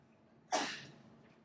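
A single sneeze bursts out in a quiet lecture room, a sudden sharp blast of breath that trails off over about half a second.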